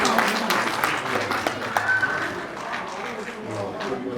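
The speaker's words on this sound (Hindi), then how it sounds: "कृपया दोबारा से ताली का" Applause at a temple birthday celebration in Samba, scattered and uneven hand claps from a gathered crowd, moderate in level, mixed with voices and some low background sound.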